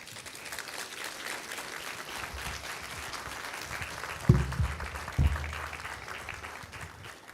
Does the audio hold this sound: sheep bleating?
no